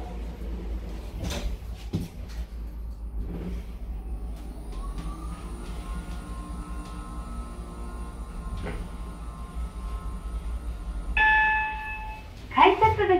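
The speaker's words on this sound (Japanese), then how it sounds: "ドアが閉まります。" Otis elevator doors at Keikyu Kurihama Station slide shut in a quiet enclosed car, a soft mechanical whir over a low hum, followed by a clunk and a short chime near the end.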